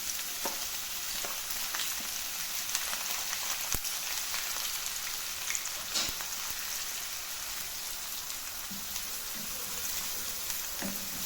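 Onions fry in a pan for chicken puttu masala, a steady close sizzle with crackling pops and occasional scraping stirs throughout.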